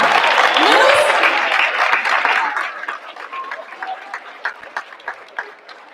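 A school audience at a Black History Month program applauds, loud dense clapping that thins over several seconds into a few scattered claps.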